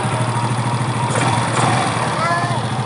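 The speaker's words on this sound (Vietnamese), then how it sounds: "Rồi bây giờ mình nổ máy lại." A Yamaha Nouvo 5 scooter engine with weak compression and hard starting idles up close. It gives a steady, rhythmic putter with a low throb and a slight lift partway through.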